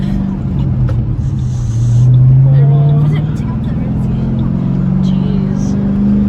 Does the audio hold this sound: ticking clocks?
no